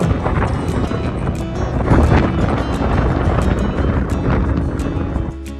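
Strong wind buffets the microphone at a Maui beach used by windsurfers, a loud continuous rumbling roar with gusts rising and falling and no talking.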